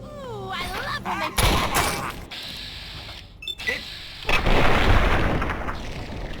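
Weapon fire and explosions in Fallout 3 land as loud, broadband blasts and cracks, separated by gaps. Mechanical whines and creaks are scattered through the sequence.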